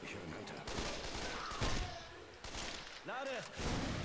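Weapon fire from a grenade launcher in the zombie shooter Left 4 Dead: repeated sharp shots and thuds over a low game background, fairly quiet, with a voice briefly heard toward the end.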